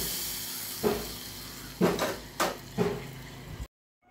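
A hot tempering is poured into sambar, giving several short, loud hissing sizzle bursts in quick succession before cutting off to silence.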